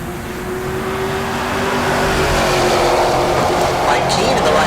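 A Mustang in the 12.0 class drag racing at Heartland Park Topeka, its engine roar swelling and holding loud through the run while an announcer talks over it.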